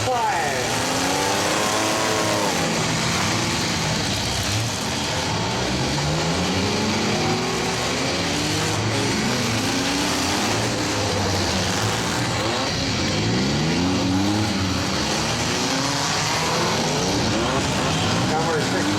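Demolition derby minivans and mini trucks race at a 2016 event in Mapleton, Minnesota, their engines revving and roaring in repeated rising and falling surges, with a loudspeaker announcer talking continuously over the noise.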